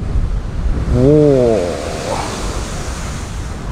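A water fountain spouting at sea gives a steady, loud broadband rush of spray, heard close from a fishing boat, with a man's brief exclamation near the start.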